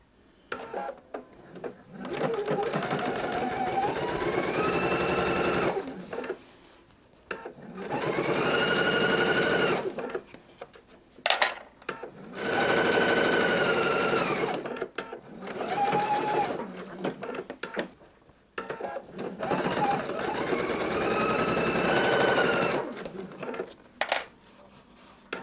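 Sewing machine stitching a seam at 2.5 stitch length with back stitching at start and end, running in four loud bursts of steady whirring separated by short pauses, alone with no talk.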